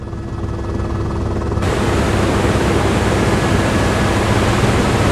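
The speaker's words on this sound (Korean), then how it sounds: "폭포 아래쪽으로 거센 물살이 새하얗게 부서집니다" A waterfall on Kauai, its strong current crashing white at the base, a loud, steady, broadband roar that swells slightly after the first second and stays continuous, with no talking.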